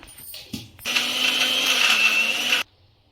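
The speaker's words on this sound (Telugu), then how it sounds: "గారెలకైతే మిక్సీ పడదాం" A mixer grinder runs for about two seconds, loud and close, grinding soaked sprouted chickpeas into coarse batter for vada, its steady whirring motor starting after a few clicks and cutting off sharply.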